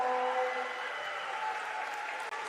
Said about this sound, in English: the student section of Central Maine up and cheering, along with the Mustangs bench